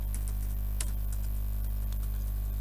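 Soft, uneven clicks of typing on a computer keyboard, quiet and irregular over a steady electrical hum, with no talk.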